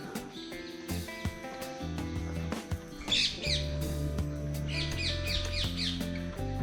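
Loud birds along the Manoa Falls hiking trail in Hawaii squawk and chirp in short bursts, clustered mid-way, over a steady tonal background.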